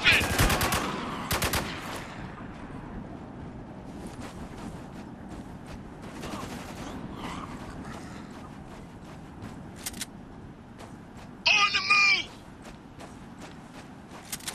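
Gunfire in Spec Ops: The Line, sharp bursts of automatic fire up close followed by scattered distant shots, with voices shouting over the action.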